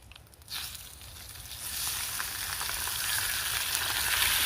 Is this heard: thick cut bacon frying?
yes